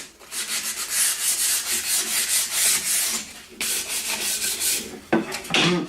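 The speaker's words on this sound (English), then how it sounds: "so just give them a light sand on the face and in the groove" Wooden frame-and-panel parts are hand sanded on the face and in the grooves, a close, steady rhythmic rasping of quick back-and-forth strokes that pauses briefly before a few final rubs.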